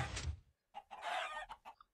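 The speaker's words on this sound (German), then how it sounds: "Danach fallen die Hühner runter, fallen ins Feuer und sterben." Chickens cluck in a Minecraft automatic chicken farm, with a few short, quiet clucking bursts separated by brief gaps.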